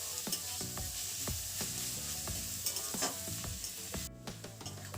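Onions frying in a pan with dried red chili powder added for an egg curry, a steady close sizzle broken by repeated sharp scraping stirs of a utensil against the pan.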